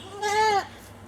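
A single goat bleat, loud and close, a wavering nasal cry lasting about half a second, then quiet.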